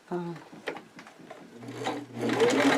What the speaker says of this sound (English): I'm going to take it back to the sewing machine and I'm going to sew top stitch